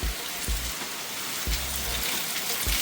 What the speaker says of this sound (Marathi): बरं आहे पाऊस येत ते